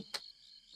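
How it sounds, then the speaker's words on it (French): Crickets chirp in a brief, faint snippet: one sharp chirp stands out over a thin, steady high trill. "Ah, alors, écoutez les grillons."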